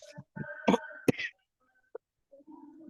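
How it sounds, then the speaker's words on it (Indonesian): A few short coughs close by, followed by quiet stillness with a faint murmur. "maaf ya, sedang batuk ya"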